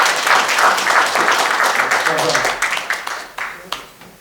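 An audience at an anniversary ceremony of a Busan civic association applauds warmly, a loud burst of clapping that fades into scattered, separate claps near the end.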